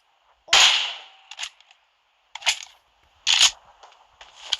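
Groza rifle shots in a video game crack out in several sharp bursts: a loud opening shot, then separate single reports spaced about a second apart, with short tails and quiet gaps between.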